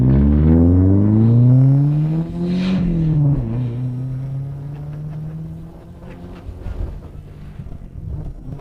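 An Audi 80 fitted with a Ragazzon straight-through exhaust revs hard, the engine note sweeping up to a peak and dropping back, then settling into a loud, steady drone with some wind buffeting on the microphone.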